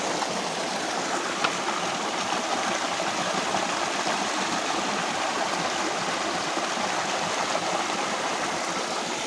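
A river stream on a hiking trail flows with a steady, close rushing and babbling of water, constant and unbroken, with no talking.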